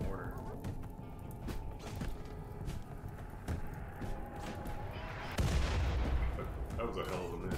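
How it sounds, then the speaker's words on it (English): Mortar shell blasts in the Rimworld colony game, a steady barrage of booming impacts and crackling gunfire with one heavier, louder explosion near the end, heard under ongoing game noise. "Skeletor's gonna get hit with a mortar"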